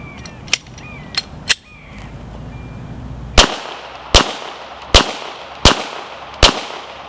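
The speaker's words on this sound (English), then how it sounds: "what I've got now is a Glock 22 chambered in 40 Smith & Wesson, and we're going to go ahead and fire it" A Glock 22 pistol firing .40 Smith & Wesson rounds outdoors, five sharp loud shots at a steady, roughly evenly spaced pace, each with a ringing decay, preceded by a few fainter clicks and knocks of handling.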